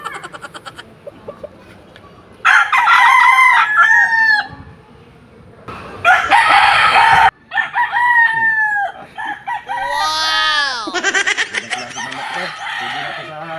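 A fighting gamecock meant for a Sunday cockfight crows loudly and close, several long harsh calls with clucking in between and short quiet gaps.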